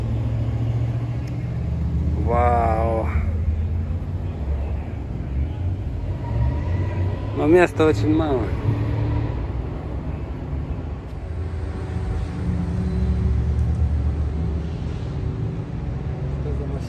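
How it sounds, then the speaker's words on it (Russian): Vintage American cars, including a 1933 Michigan-built model, pull out onto Woodward Avenue during the Detroit cruise. Engines rumble continuously up close, with voices chatting over the traffic and a couple of brief sharper squeals. "Покажем вам на дороге движение этих машин."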